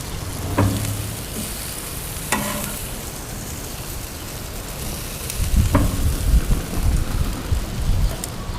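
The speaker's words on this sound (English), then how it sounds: "You're going to keep it on the grill for, about 4 minutes. Just rolling it around a little bit." Asparagus spears rolled around on a grill, a steady loud sizzle with a few sharp scrapes and clicks as they are turned, no voices.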